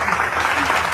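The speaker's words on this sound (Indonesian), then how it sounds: "Tepuk tangan dulu kita semua." Audience applause at a debate gathering, dense sustained clapping from a crowd filling the whole moment, loud and continuous.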